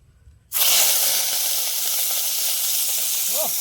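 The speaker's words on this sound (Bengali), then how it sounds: "তেল দিয়ে ভেজে নেবো। বললি না, গুগলিটা দিয়ে দিলাম।" Pond snails (gugli) hitting hot oil in a village kitchen set off a sudden loud, continuous sizzle that holds steady up close, with a brief voice near the end.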